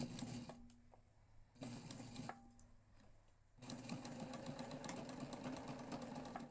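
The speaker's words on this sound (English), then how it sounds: "Stitch down either side of the pocket. As before, we are going to back stitch really well." A sewing machine backstitches the sides of a pocket on a backpack in quiet, stop-start runs, with short pauses between bursts and a longer continuous stretch of stitching at the end.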